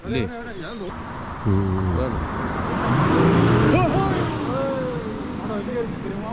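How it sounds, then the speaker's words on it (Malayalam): In Scotland in winter, a vehicle passes between two walls that echo its engine, a rumble that swells and fades over several seconds while people talk nearby. "അത് ഈ 2 മതിലിന്റെ ഇടയ്ക്കത്തെ ആ വണ്ടിയുടെ സൗണ്ട് കൂടിയതുണ്ടോ?"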